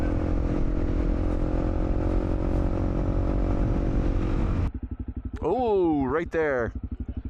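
Honda CRF250L motorcycle engine droning steadily and loudly while riding, cutting off partway, followed by a voice speaking briefly.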